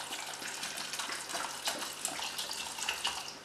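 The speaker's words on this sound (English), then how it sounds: "you're going to pour vinegar over them until they're completely submerged" Vinegar is poured over rinsed chickpeas in a bowl, making a steady, close splashing trickle of liquid that runs unbroken and alone.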